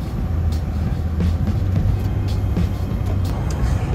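A car driving along a parkway, its steady road and engine rumble loud and continuous throughout, with faint higher hiss from passing air and tires.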